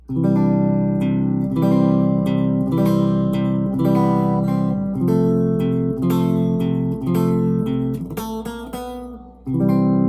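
A guitar picks out a slow repeating pattern, a low bass note followed by a strum and single notes, steady and close with no voices.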